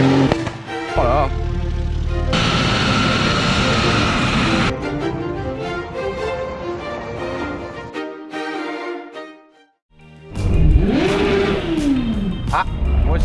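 A 650 hp BMW 140i engine roars and revs at an autocross track, loud rising and falling sweeps with a brief drop near silence before it bursts back, while voices talk over it.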